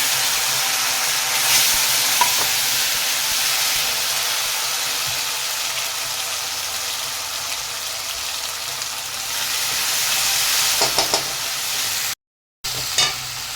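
Ground spice paste of cumin, chilli and ginger frying in hot oil for a magur fish curry, a loud continuous sizzle with occasional stirring scrapes, cutting briefly near the end.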